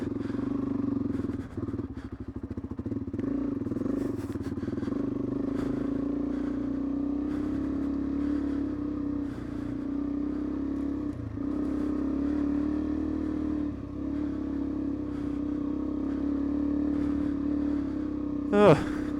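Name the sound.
Suzuki DRZ400E dirt bike riding on a track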